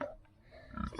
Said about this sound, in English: as you can see, the pigs are down here.